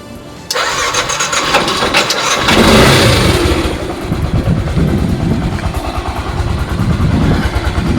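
A Yamaha YTX 125 motorcycle tricycle starts up and settles into a steady idle in neutral. The mid-pitched engine note is close and loud and runs alone, with no talking.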